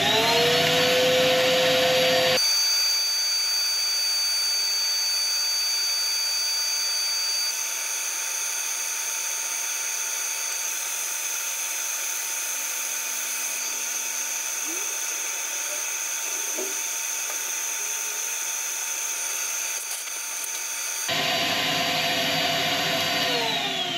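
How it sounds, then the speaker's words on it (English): A black walnut bowl being sanded on a woodturning lathe, a steady continuous whirring hum with a sustained high whine, close and unbroken for most of the stretch, starting and stopping abruptly. "I'll start sanding."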